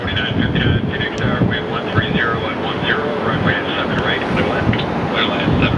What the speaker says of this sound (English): There just goes a massive wave of gustiness right there.